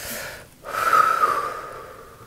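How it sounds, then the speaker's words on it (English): A person draws one long, audible breath that swells and fades slowly in a quiet room, with a short softer breath just before it. "so let's just take a breath"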